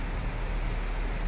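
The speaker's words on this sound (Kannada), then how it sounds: "ಬೆಳಿಗ್ಗೆನೇ ತುಂಬ ಮಳೆ ಬರ್ತಾ ಉಂಟು." Heavy rain with strong wind pours outside a balcony, a brief dense wash of steady roaring hiss with no distinct drops or voices.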